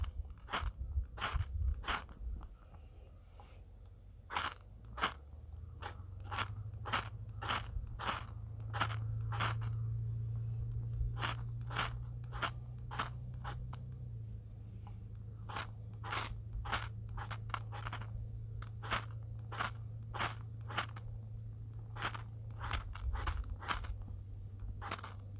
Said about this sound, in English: If something's hard to ignite, you can always slow scrape the rod.